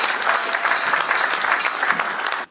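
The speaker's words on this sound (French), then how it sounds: "Pouvons-nous acclamer pour le Seigneur?" A church congregation claps and cheers for the Lord in a dense, continuous burst of applause that cuts off abruptly at the end.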